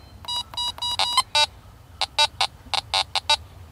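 Interference beeps from a Teknetics Omega 8500 metal detector, a series of short electronic tones in irregular bursts, some rapid runs and some single beeps, clear and close over low background hum.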